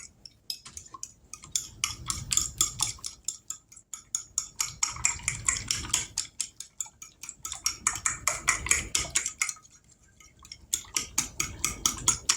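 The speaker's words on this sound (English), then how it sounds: "Kind of give them a little bit of a stir." Eggs and milk being stirred in a bowl with a utensil, a steady rapid run of light clicking and tapping strokes against the bowl, close by, with a few brief pauses between bursts.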